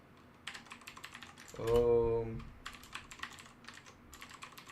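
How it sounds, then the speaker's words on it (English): Irregular bursts of clicks from typing on a computer keyboard, close and fairly quiet, broken midway by a short louder tonal sound before the keystrokes resume. "Sorry for my very bad typing."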